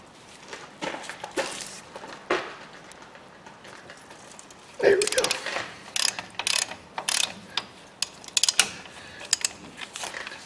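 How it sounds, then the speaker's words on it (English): A Top Tool extendable half-inch ratchet turns a 6-point socket on a Dodge Ram 2500/3500 front wheel bearing job, giving bursts of close, sharp clicking with pauses between strokes and some clunks of metal. "This is my extendable half-inch ratchet, so she extends way out."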